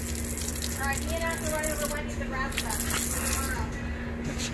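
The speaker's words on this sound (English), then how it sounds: "I'm bleeding off the pressure." Pressure being bled off a homemade two-ton water heater with a new circulation pump gives a rough, spraying hiss that swells in bursts over a steady low hum, with faint voices underneath.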